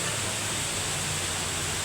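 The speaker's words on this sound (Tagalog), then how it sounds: "Waterfalls." Waterfall in Antipolo, a dense, steady rushing roar of falling water heard close up, broadband and unbroken with no voices over it.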